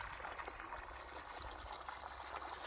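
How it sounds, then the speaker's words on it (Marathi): Water gushes from a farm borewell pump whose motor has been running for hours, making a continuous, fairly faint rushing flow with no clear pauses. "बोरला पाणी टाकायला लागलं, तुम्ही खुश आहे ना?"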